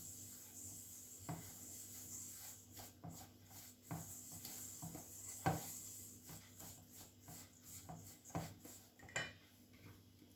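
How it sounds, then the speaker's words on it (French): A spoon or spatula works whipped egg whites into financier batter in a bowl, producing soft scraping strokes punctuated by a few sharper clinks against the bowl, close and quiet, with no talking. "je vais incorporer dans la première préparation et mélanger délicatement"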